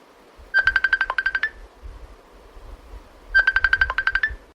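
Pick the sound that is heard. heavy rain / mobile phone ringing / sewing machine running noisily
mobile phone ringing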